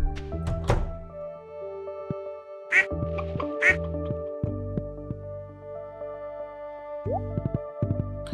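Ducks in the Stardew Valley farming game give several distinct cartoonish quacks, clear and fairly close, mixed with hollow thunks and plinky music-like tones, with no talking.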